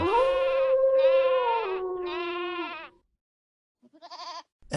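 Sheep bleating in a meadow: three long, wavering bleats close by in quick succession, then a pause and a shorter, fainter call.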